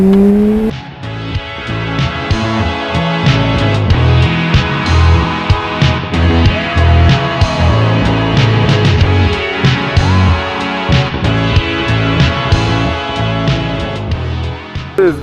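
Busy car traffic in Los Angeles roars past continuously at close range, with engines accelerating, a tire squeal and a layered rumble of vehicles and no talking.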